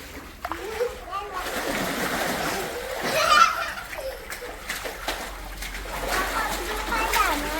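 Children splash and slosh water nearby while bathing, with constant spattering, their voices chattering and calling out over the watery noise.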